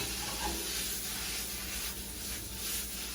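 Morel mushrooms sizzle in butter in a pan, a steady, soft hissing crackle that runs unbroken and fairly faint throughout.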